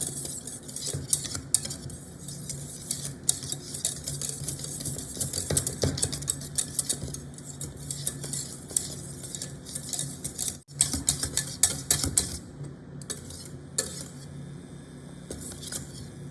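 A whisk stirring thickening tart cream in a pan for a fig tart, busy metallic scraping and clinking in quick irregular strokes, fairly close, with no talk.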